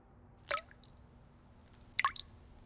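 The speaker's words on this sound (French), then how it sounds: "Le robinet ne coule qu'un tout petit peu." A leaking household tap letting water fall in two distinct drops about one and a half seconds apart, close and crisp against a quiet room.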